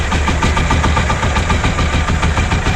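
A Shifeng 240 tractor engine idles up close while ploughing clay soil, with a steady, loud diesel chug and a dense, even throb that runs throughout without a break.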